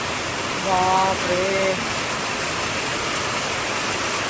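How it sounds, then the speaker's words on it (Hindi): Torrential monsoon rain pours down in a steady, dense roar that fills the whole clip at an even loudness, with a brief exclamation from a person near the start. "मूसलाधार बारिश हो गई।"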